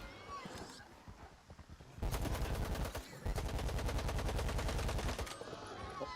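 Automatic weapon fire in the video game S.T.A.L.K.E.R. 2 on PS5: two loud sustained bursts of rapid, evenly spaced shots, the first about a second long and the second running nearly two seconds, set against quieter ambient game noise.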